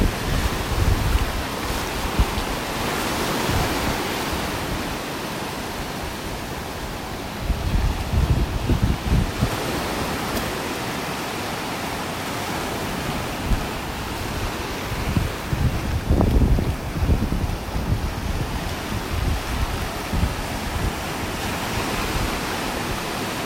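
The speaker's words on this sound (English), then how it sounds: "No surprise with all these waves though" Ocean surf rolls steadily onto a beach in North Naples, Florida, on a rough-water morning, a continuous loud wash of breaking waves mixed with heavy wind rumble on the microphone.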